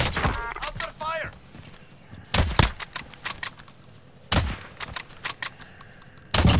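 Sharp gunshots from a Call of Duty match featuring a Kar98 rifle ring out in clustered bursts: a few near the start, a volley around the middle and another later, loud and close, with in-game radio voices talking between them.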